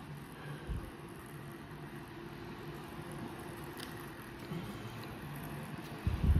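A Ryobi cordless fan blows air with a steady, faint low whoosh and hum, close by and unchanging, with a brief thump near the end.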